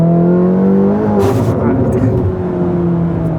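A McLaren 720S GTR pulls hard in fourth gear, its engine note rising steadily in a loud, close, sustained roar with a brief burst of exhaust crackle partway through.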